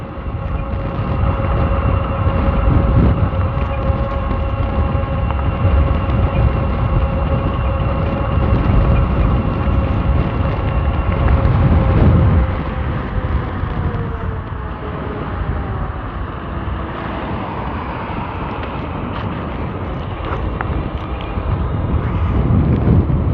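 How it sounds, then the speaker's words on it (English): Heavy wind buffets the microphone while riding a SOLEBIKE SR22 retro fat-tire e-bike, a loud continuous roar with a faint steady motor whine underneath, no voices. "The wind's even rougher this way."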